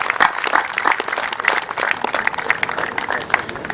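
An audience at a launch event gives a round of applause, with dense, steady clapping that stays loud and continuous through the short stretch.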